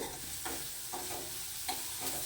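Bottle gourd slices frying in a pan over a low flame, with a soft steady sizzle and a few brief stirring scrapes at irregular intervals.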